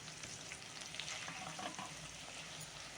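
Homemade hair oil ingredients fry in hot oil with a steady, dense sizzle and crackle, close and continuous, along with occasional stirring sounds.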